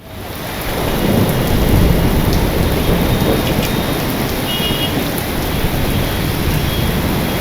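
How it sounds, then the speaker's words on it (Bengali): Heavy rain pours down steadily in a loud, dense roar with deep thunder rumbling beneath it and no voices. "মোটামুটি যা বৃষ্টি নেমেছে"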